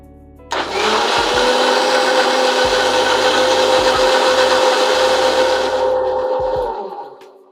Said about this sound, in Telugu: ఇప్పుడు దీన్ని మొత్తం ఒక బ్లెండర్లో వేసుకున్న తర్వాత మనం మిక్సీ చేసుకోవాలి